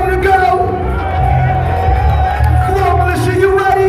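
A crowd at a breakdance battle in Brooklyn, New York, roars and whoops loudly and continuously, a dense wall of cheering and shouting with voices mixed throughout.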